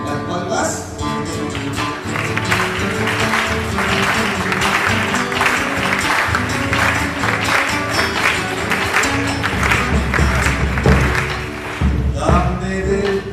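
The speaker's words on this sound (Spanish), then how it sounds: "Las palmas." An audience applauds and claps along in a lively crowded setting, with sustained rattling claps mixed with music and voices throughout.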